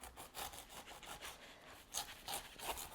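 A knife saws back and forth through the tough top of a pineapple, producing several close, rasping strokes with short pauses between them.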